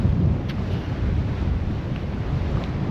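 Strong wind buffets a GoPro camera on a ferry crossing toward Tadoussac, producing a continuous loud low rumble and roar of microphone wind noise with no voices.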